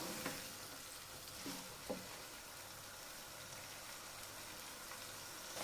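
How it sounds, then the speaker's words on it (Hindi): Tomatoes and peas fry in a pan with a steady, soft sizzle and crackle, broken by a few faint stirring scrapes, close by and without talk. "टमाटर और मटरों को अच्छी तरह ना भूनते हैं।"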